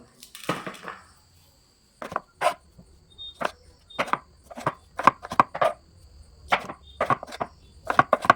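A knife chopping food ingredients on a board in a home kitchen, irregular bursts of close, sharp taps in quick groups separated by short pauses, with no talking.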